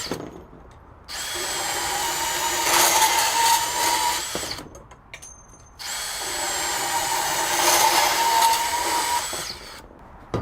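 DeWalt 20V Max compact cordless band saw (DCS377) cutting 3/4 inch EMT conduit: two separate whining cuts of about four seconds each, loud and close, divided by a brief pause.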